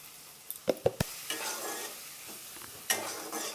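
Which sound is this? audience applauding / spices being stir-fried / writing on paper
spices being stir-fried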